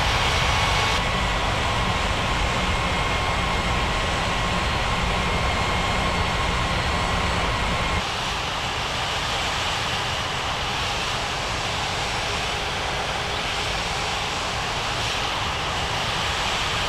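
Aircraft engines roar steadily in an air traffic control game at a busy international airport, a continuous loud broadband rumble with a faint tonal whine that drops in intensity partway through, with no talking.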